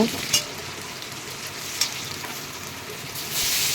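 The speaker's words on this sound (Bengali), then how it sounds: "পেঁয়াজ কুচি দিয়ে দিলাম পেঁয়াজ কুচি ভালো করে ভেজে নেব" Chopped onions fry in hot oil with bay leaf and sugar in a pan, a steady close sizzle broken by a couple of sharp stirring clinks, growing brighter and louder near the end.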